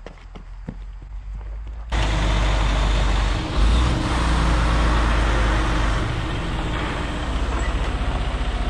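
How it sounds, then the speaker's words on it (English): A truck delivering a post and beam shed arrives, with a loud engine rumble and road noise that swells abruptly and stays heavy and close after a quieter outdoor start. "I hear the truck"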